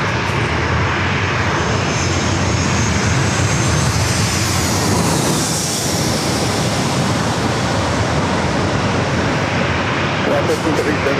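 A Spirit Airlines airliner at San Diego airport roars loudly and continuously, the jet noise swelling toward a peak midway and then holding strong.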